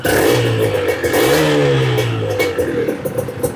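Suzuki FSX150 two-stroke motorcycle engine revving up and down close by, a raspy buzzing tone rising and falling over a loud, steady running noise.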